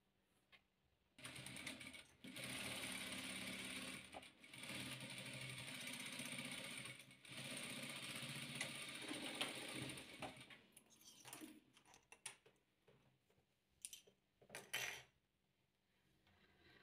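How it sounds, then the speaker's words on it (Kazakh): A sewing machine runs close by, stitching red and blue patchwork fabric squares together in several sustained whirring bursts that stop and restart. Scattered clicks and handling noises follow as the machine falls quiet. "Енді екі қызыл шаршымызды екі көк шаршымызға дәл осындай қылып тігіп аламыз."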